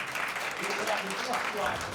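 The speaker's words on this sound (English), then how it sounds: "Give them a round of applause." Audience applause at a reunion show, a steady broadband wash of clapping that holds evenly through the moment with voices mixed in.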